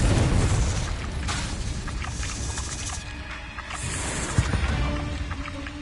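A Confringo blast spell cast in the Hogwarts Legacy video game, a dull booming burst over rumbling, noisy combat ambience lasting a few seconds.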